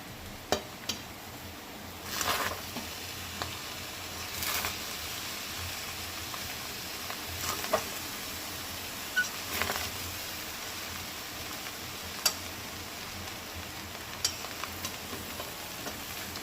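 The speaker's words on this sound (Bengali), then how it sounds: "এইভাবে হালকা হাতে নাড়াচাড়া করতে হবে পেঁয়াজ গাছটা দিয়ে" Mixed rice with spring onions is stirred gently in a pan: sparse, quiet scrapes and soft shuffles come every couple of seconds over a low hiss.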